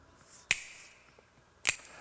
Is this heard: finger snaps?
yes